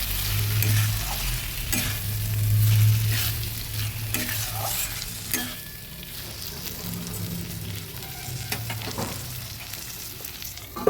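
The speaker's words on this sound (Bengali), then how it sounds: "এবার ভিজিয়ে রাখা চালগুলো দিয়ে দেবো ভালোভাবে মিশিয়ে নিচ্ছি" Soaked rice is stirred into a fish head curry (katla fish head murighanta with potatoes) in a pan, giving close, loud scraping stirs over a steady frying sizzle, with no talking.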